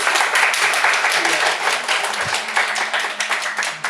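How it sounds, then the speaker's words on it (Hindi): Audience at a Hindi-Urdu poetry recital applauding loudly and steadily, a dense wash of many hands clapping that holds at an even level from start to finish. "एक बार आप ज़ोरदार तालियां बजा दीजिए"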